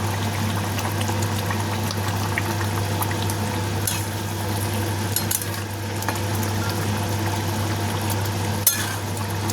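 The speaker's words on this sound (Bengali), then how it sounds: "মাছগুলো দেওয়ার পরে ফুটে গেছে" A tangra fish curry boils in a pot with a steady bubbling hiss and a low constant hum, the texture even throughout, with a few brief pops near the end.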